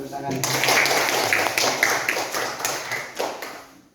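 An audience in a classroom claps with dense, overlapping hand claps that stay steady and fairly loud before fading out, with some voices mixed in.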